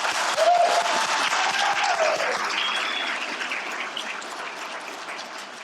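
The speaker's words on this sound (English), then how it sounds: "Let's give them a round of applause." An audience at a Phoenix College lecture event applauds to welcome artist Eric Fischl and Kate Capshaw, a full, sustained roar of many clapping hands that slowly tapers, with a few faint voices mixed in.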